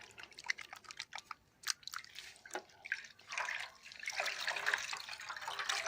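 Dyed wool yarn being rinsed with soap under running water: irregular drips, splashes and squelching handling that build into a steadier, louder flow of water toward the end.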